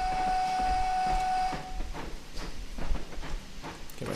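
Steam pannier tank locomotive in Train Simulator 2018 on the Swindon-Highworth branch, pulling out of a station: a steady whistle-like hiss gives way to irregular soft chuffs under a rumbling background, moderately loud with no talk.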